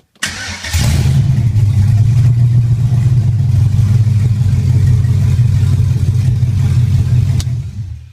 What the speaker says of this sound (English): if I fire it up here, with our standard race car push button here